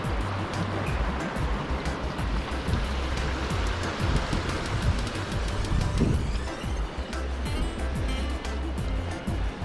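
Water rushes where a river meets the sea at Boca de Tomatlán, near Puerto Vallarta, in a loud, continuous roar of churning flow and surf, with scattered splashy crackles throughout.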